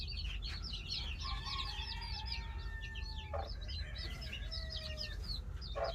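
Wild hens cluck softly on a farm among newly hatched chicks, with thin high cheeping chirps scattered across a steady low background hum.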